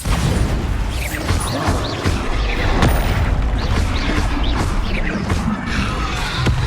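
The Bombarda explosion spell in Hogwarts Legacy, with loud booming blasts and crashes layered over dense, continuous combat noise and magical whooshes.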